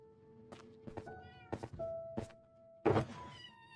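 A cat's meow in a video game rings out several times, short tonal cries separated by soft thumps, with a louder, harsher meow near the end.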